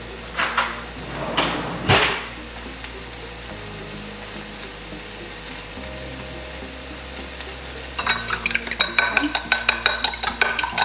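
A fork whisks two eggs in a dish, making a quick, rhythmic series of clinking taps near the end, after a stretch of soft sizzling from onions cooking in a pan and a few earlier knocks. No one speaks.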